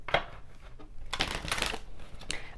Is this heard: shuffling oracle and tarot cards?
yes